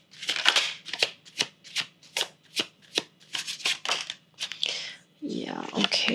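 Tarot cards are shuffled and drawn up close, giving a run of quick, crisp riffling bursts in a regular rhythm. A longer rustling slide follows at the end, and a voice speaks faintly underneath.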